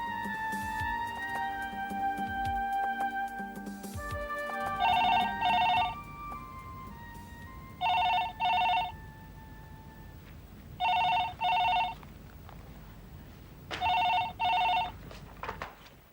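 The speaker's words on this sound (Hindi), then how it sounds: "किसका फोन है शिवानी?" Telephone ringing indoors: four double-burst rings spaced about three seconds apart, loud and clear against quiet background, following a stretch of music at the start.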